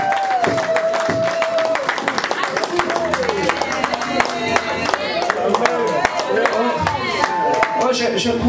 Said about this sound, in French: On donne une belle acclamation à notre Dieu.